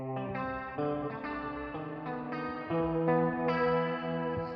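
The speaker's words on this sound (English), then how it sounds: "We have a combination of two different types of guitars playing." Two different types of guitars playing together in a Wuthering Waves track, layered plucked melodic lines with effects and echo, steady and moderately quiet, with no talking.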